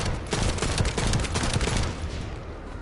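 Rapid repeater gunfire in the looter shooter game The First Descendant rattles out as a dense, continuous burst of loud shots for nearly three seconds, tapering off at the end, with no talk.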